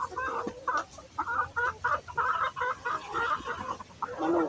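Chickens clucking in a poultry farm house, a steady run of short overlapping clucks at close range with a louder burst at the end, farm background hum underneath.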